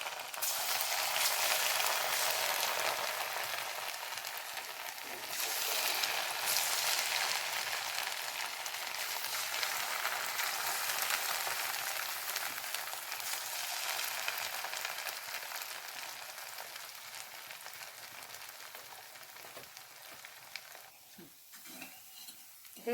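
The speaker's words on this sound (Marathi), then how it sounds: "तळण्यासाठी तेल तापलेलं आहे" Sweet bhaje frying in hot oil, a steady dense sizzle and crackle running continuously and fairly close, with faint stirring clinks toward the end.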